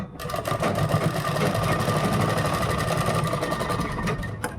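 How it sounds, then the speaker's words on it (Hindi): A sewing machine runs steadily, stitching a half-inch seam at the neckline of a kurta. The motor hum and rapid needle rattle stay close and loud for the whole stretch, with no talking. "हम सिलाई लगाएंगे यहाँ पर 1/2 इंच की"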